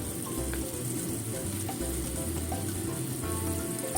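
Sweet potato and chicken simmering in a covered pot with sugar-sweetened sauce, a soft, steady bubbling and faint sizzle throughout, quiet and continuous with small clicks from the pot.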